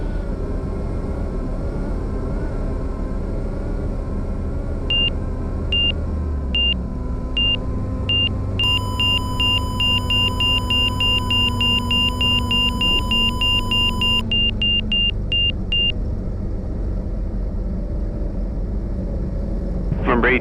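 Small airplane engine droning steadily in the cabin as power comes back on approach to runway 22, with a low rumble throughout, a run of rapid electronic beeps partway through and occasional radio talk.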